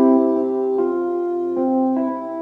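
Synth preset with the rep keys sample swapped in, playing sustained tonal chords that re-strike about every three-quarters of a second, steady and upfront with no voices.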